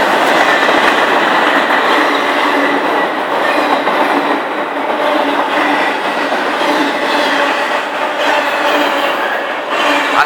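A freight train passes by at Elk Creek, a loud close continuous roar and rattle of rail cars with rhythmic clacking and faint wheel squeal, sustained throughout without talk.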